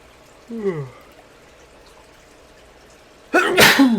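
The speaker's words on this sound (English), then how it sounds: "Sneezing like a motherfucker." A short voiced intake, a pause, then one loud, close sneeze that bursts out sharply and trails off.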